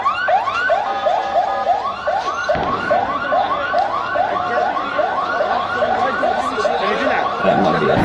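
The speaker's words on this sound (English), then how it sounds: "Oh, it looks like an ambulance." A wailing siren cycles rapidly up and down without pause, loud and close, with faint background rumble and a brief thump partway through.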